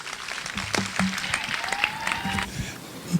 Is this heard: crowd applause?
yes